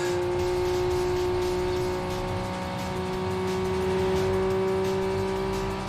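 A Toyota Supra racing in the PSP game Street Supremacy, its engine droning steadily near redline with a rising pitch as it keeps accelerating, loud and alone.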